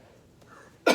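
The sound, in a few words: throat clearing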